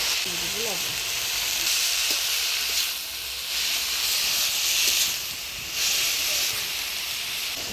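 Chopped pea greens hit hot oil in a pan with a dense, close sizzling hiss that swells and dips in waves, with a brief bit of voice near the start.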